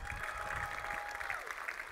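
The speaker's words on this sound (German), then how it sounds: "aber bitte trotzdem ein großer Applaus, unsere beiden Parteivorsitzenden Saskia Esken und Norbert Walter Borjans" Audience applause at an SPD political rally on Olaf Scholz's tour stop in Cologne, a steady wash of clapping with some crowd murmur throughout.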